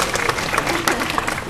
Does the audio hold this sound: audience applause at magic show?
yes